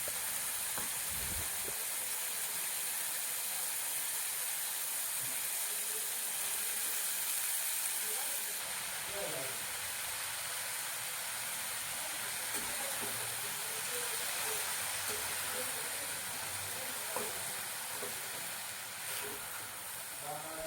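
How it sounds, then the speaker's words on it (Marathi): Soaked chana dal, green chili, garlic and spring onion sautéing together in a pan give a steady, close hiss of frying that runs the whole time, with a few faint clinks and stirring scrapes underneath. "भिजवलेली हरभऱ्याची डाळ, हिरवी मिरची, लसूण आणि कांदा पात एकत्र मिक्स करून 1 ते 2 मिनिट चांगली परतून घेऊ"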